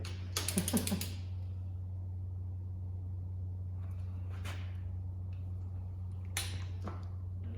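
A torque wrench ratchets in short clicking bursts while head bolts are tightened on an engine, with a quick run of clicks at the start and fainter clicks later over a steady low hum, with no talking.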